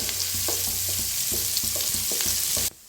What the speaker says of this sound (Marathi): आता कांदा छान असा भाजून घेतलेला आहे